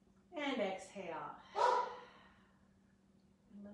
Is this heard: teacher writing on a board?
no